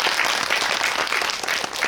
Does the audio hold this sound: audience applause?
yes